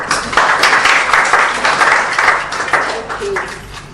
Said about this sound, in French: Sous l'applaudissement.